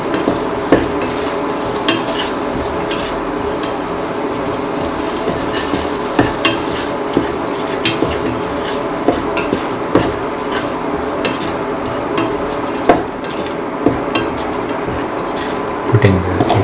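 Eggplant coconut rice being mixed with salt in a pan, with a steady soft scraping and stirring sizzle and regular light knocks of the utensil against the pan.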